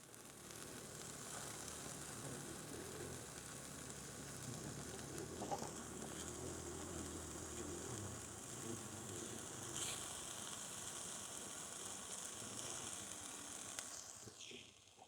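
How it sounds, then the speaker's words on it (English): Sliced hot dogs sizzle in a pan on an electric cooker at a trail campsite, a steady close crackling hiss that holds throughout with no talking. "We be sizzling."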